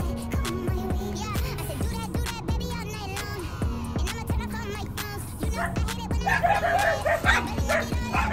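A small dog barks repeatedly in short yips and bow-wows, close and fairly loud, with some whimpering and people talking in the background toward the end.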